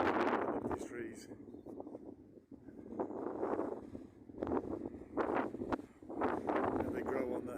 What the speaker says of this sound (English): The wind's picked up as I'm climbing.